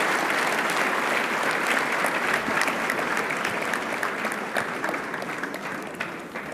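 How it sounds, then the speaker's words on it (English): A round of applause from a leadership conference audience, sustained and fairly loud, a thick wash of many hands clapping at an even level that tapers slightly near the end. "Give them a round of applause."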